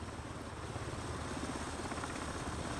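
Blackbird MH60 helicopter in the MSFS 2024 flight simulator, a steady, loud rotor and turbine drone with a dense rhythmic low thrum, continuous throughout and without voices.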